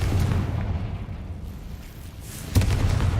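A Confringo fire-blast spell from Hogwarts Legacy bursts in a low booming explosion, with a second sharper impact about two seconds later over a rumbling game background.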